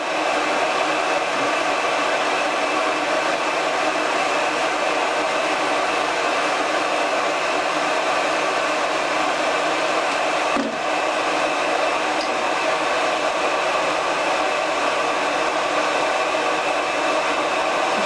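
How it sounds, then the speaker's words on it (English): A heat gun on its cool setting blows a steady, loud, broadband whoosh without a break, used while stripping old vinyl coating from boat lifeline cable. "And I put the heat gun on cool."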